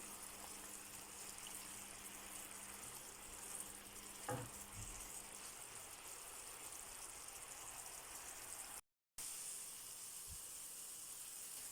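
Pears caramelize in a pan for a cake, giving a faint, even frying sizzle and hiss that runs steadily, with one brief knock and a short gap of silence near the end.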